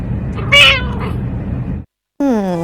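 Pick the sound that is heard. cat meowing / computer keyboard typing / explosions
cat meowing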